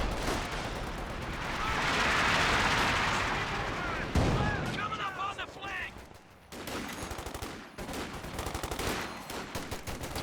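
Machine guns and infantry artillery in a Company of Heroes 2 match: rumbling barrage and explosions give way to rapid bursts of gunfire, dense, loud and continuous, with faint commentary underneath.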